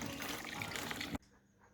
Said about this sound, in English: we're just getting a little bit more water out of the boiler